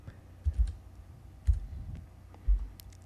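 Numbers typed on a computer keyboard while setting a parameter in laser-cut box design software, three soft clusters of quick key clicks spaced about a second apart, close and quiet, no talk.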